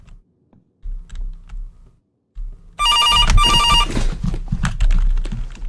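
A telephone rings in a horror video game, a shrill electronic double trill cutting in loudly after a quiet low hum, layered with clattering, tapping noises that continue to the end.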